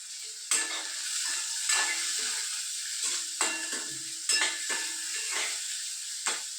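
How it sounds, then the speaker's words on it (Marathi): Onion being sautéed with a pinch of salt in a pan, a soft sizzle under regular spatula scrapes and taps that come every second or so, close and unaccompanied by speech. "आणि हे थोड्या वेळ परतून द्यायचं."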